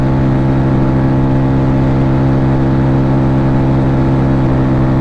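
Honda ADV 150 scooter engine running while riding on a damp day, a steady droning hum with a strong low tone and wind rush, continuous and close, with no talk.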